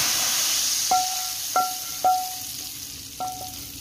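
Cumin seeds fry in a kadhai for dal with a soft, continuous sizzling hiss, interrupted by four short, clear tonal beeps spaced unevenly across the few seconds.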